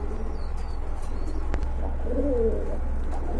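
A pigeon gives a soft, low coo over a steady background hum.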